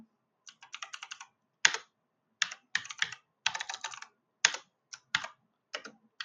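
Code typed on a computer keyboard in quick bursts of crisp keystrokes separated by short pauses, with a few louder key presses, close and clear in a quiet room without speech.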